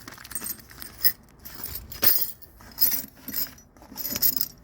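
Keys jangle and clink close by while unlocking the top box on a CFMoto 450MT motorcycle, a series of irregular metallic rattles and taps.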